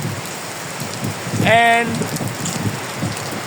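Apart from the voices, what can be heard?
rain falling during night bike ride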